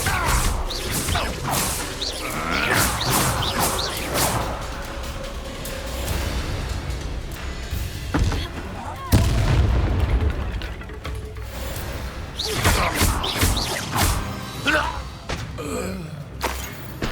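Spell blasts and impacts in the Hogwarts Legacy video game: a string of booms, crashes and whooshes from Confringo explosive spells and combat, with a heavy thump near the middle, under intermittent character and player voices.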